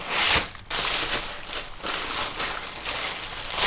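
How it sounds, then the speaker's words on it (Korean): Paper cushioning packed around a camera lens rustles and crinkles as it is handled during unboxing, a steady close, loud scratchy crumpling with brief pauses and no talk. "역시나 완충제는 종이로 들어있고요."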